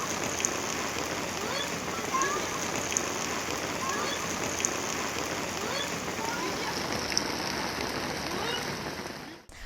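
Heavy monsoon rain falls steadily in Junagadh, Gujarat, a dense, unbroken hiss of downpour on surfaces lasting throughout, with a few faint sharper ticks and no voices.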